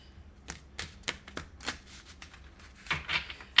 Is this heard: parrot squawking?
no